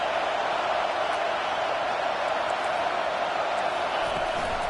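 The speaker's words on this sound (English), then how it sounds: "Decibels rising as the crowd gets behind this defense on third down" Stadium crowd roar building during a third-down defensive stand in College Football 25, a dense, steady wash of cheering noise at constant loudness throughout, with no distinct voices standing out.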